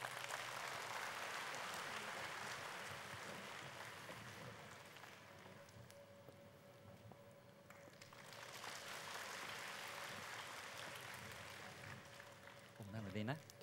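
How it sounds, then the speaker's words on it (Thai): Audience applause welcoming two senior guests onto the stage at a Thai panel talk, a steady broad wash of clapping that thins out midway and swells again near the end. "ขอเสียงปรบมือต้อนรับคุณก่อศักดิ์ชัยรัศมีศักดิ์และพลเอกนิพัทธ์ทองเล็กครับ"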